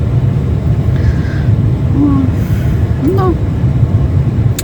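A car engine and road rumble hum low and steadily from inside the moving car, with a few brief higher tones and a short spoken word over them.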